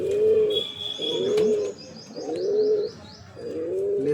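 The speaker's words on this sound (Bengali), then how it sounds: "তো এই হচ্ছে পায়রাটা" A young Madrasi pigeon, a breeding bird with its tail cut, coos close by in four evenly spaced rolling phrases, with faint higher chirps above.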